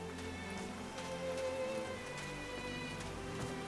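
Steady rain pattering on a mountaintop in the game Call of the Sea, a dense, even patter of drops with a low ambient musical bed beneath, no voices.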